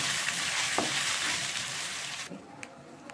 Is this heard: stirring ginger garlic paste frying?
yes